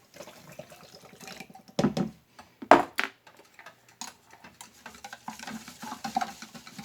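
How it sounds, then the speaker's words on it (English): A fork stirring liquid in a cup, with quick irregular clinks and swishes up close and a few louder knocks scattered through. "Alright, start stirring with your fork."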